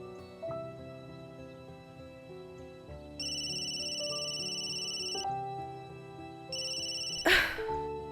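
An electronic telephone ringtone rings in repeated bursts over soft background music, with a short sharp noise near the end.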